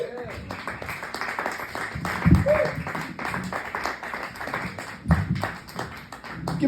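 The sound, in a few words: audience applauding comedian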